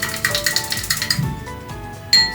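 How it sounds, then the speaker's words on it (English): A spoon clinks rhythmically against a cup while stirring a rosemary and fenugreek hair tea in warm water, with a quick series of bright metallic taps, close and clear, ending with one louder knock. "Okay, so then just stir everything."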